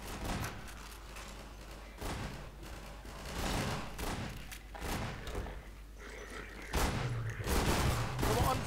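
Rapid gunfire and heavy thumps from the video game Half-Life 2 Episode One, in repeated bursts of shots at moderate loudness, mixed with other game effects.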